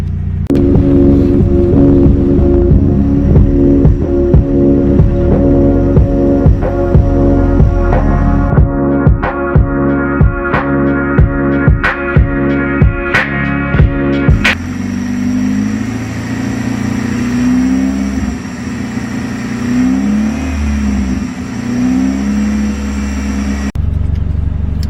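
A heavily modified 2.0 Theta I4 engine in a Genesis Coupe runs steadily close by, a loud continuous drone with sharp intermittent clicks early on, then settling into a smoother, warbling idle.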